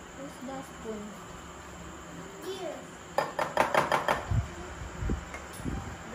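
A spoon stirs glucose by hand in a bowl for homemade butterscotch chewies, giving a run of quick, close clinks and scrapes that turns into a few heavier knocks, with people talking softly underneath.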